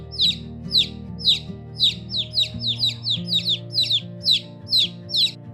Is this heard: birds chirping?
yes